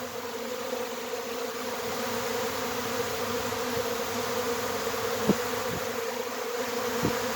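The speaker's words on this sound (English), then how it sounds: "Look at them just swarming in there." A honeybee swarm moves into a hive, giving a dense, continuous buzzing drone of many bees throughout, with a few louder individual passes close by.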